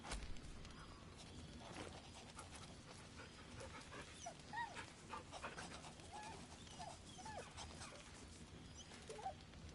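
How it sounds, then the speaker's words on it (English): Dog panting and padding along in Baldur's Gate 3, a steady breathy huff with soft footfalls running through the whole stretch at moderate, even loudness, with occasional faint whimpers. "Oh, who's a good dog?"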